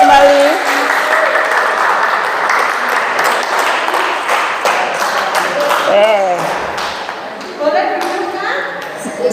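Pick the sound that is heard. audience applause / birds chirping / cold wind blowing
audience applause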